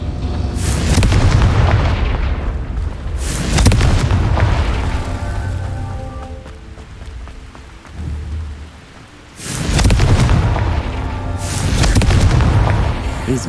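Confringo fire spell blasts in Hogwarts Legacy ring out as loud, heavy booms with a rumbling, crackling roar that swells and fades in several big bursts, filling the space with no voices over them.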